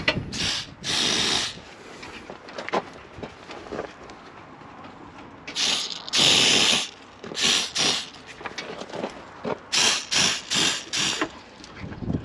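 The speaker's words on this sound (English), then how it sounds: "We're going to spray this inside that plastic bearing to give it some lubrication" Aerosol no-drip lubricant spray, safe on metal, plastic and rubber, hissing into a plastic bearing in several short close bursts of varying length, with clicks and handling noises between them.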